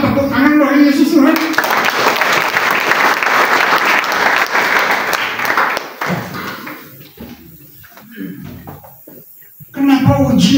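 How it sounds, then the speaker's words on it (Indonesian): A church congregation breaks into loud, sustained applause, many hands clapping together for several seconds before it thins into scattered claps and fades, with a preacher's voice heard at the start and end. "Tepuk tangan bagi Yesus Tuhan."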